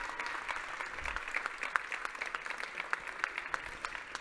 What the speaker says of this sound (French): un tonnerre d'applaudissements pour les 5 candidats qui sont donc en finale